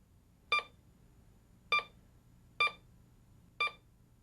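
Bounty Hunter Pioneer 202 metal detector beeping as a quarter passes the coil at different distances: four short, clear electronic beeps at roughly one-second intervals, close and isolated against a quiet background.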